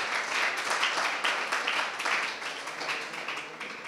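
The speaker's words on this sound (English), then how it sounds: "a round of applause for First Capital" Crowd clapping at a tennis championship prize-giving night, a soft, even patter of many hands that holds steady and tapers gently near the end.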